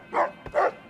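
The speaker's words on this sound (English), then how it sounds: "Are you barking at Lily because she has a hat on?" A dog named Rex, in the game Fallout: New Vegas, gives two close, loud barks about half a second apart, with a third starting at the end.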